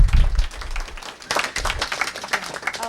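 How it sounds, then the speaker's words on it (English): Public meeting audience at a committee session on a soliciting ordinance breaking into clapping, with uneven applause and some low thumps at the start, continuing with scattered claps and a brief voice near the end. "maybe refrain from a lot of applause"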